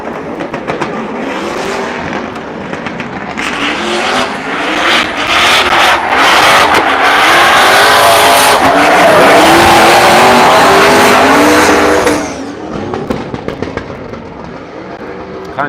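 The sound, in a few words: drift race cars with tires squealing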